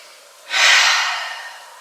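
A single deep, loud breath taken during chair yoga, a close airy rush that rises sharply and then slowly fades over about a second and a half, with no talk.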